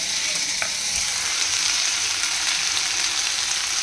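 Food is warmed in a pan with a loud, constant sizzle and hiss that stays even throughout, close by, with no voices.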